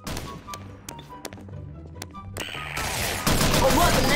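Machine gun fire in the video game Garry's Mod, starting with scattered single sharp shots and swelling into a loud, sustained rattling burst in the final second.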